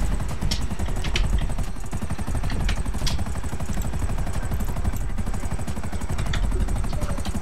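A helicopter in GTA RP runs with its rotor chopping in a fast, steady, loud pulse that fills the whole stretch without letting up.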